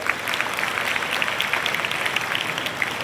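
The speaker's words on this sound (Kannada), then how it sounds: "ಜೋರಾಗಿ ಚಪ್ಪಾಳೆ ತಟ್ಟರು" An audience at a Kannada literary council gathering applauds loudly, with dense, steady clapping that fills the room from start to finish and no voices over it.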